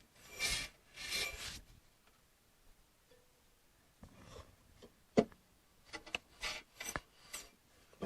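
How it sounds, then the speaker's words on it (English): Brake hardware on a Chevy Monte Carlo SS rubbing against the rotor, a close, dry rasping scrape in short irregular bursts with quieter gaps and a few sharp ticks between. "Because the hardware it sits on is rubbing against the rotor."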